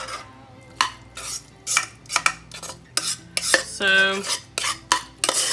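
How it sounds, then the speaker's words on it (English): A utensil scrapes and clanks through a thick casserole mixture in a pan, with repeated close stirring strokes in an uneven rhythm and a brief resonant metallic ring near the end. One short spoken word can be heard. "I'm going to try to give it a little bit of a stir once it's in this pan"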